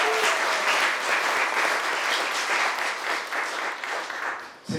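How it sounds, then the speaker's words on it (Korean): Loud, sustained applause from a large audience at a Korean social workers' association election launch event and talk concert, dense even clapping that fills the hall and fades briefly near the end. "큰 박수 한번 부탁드리겠습니다."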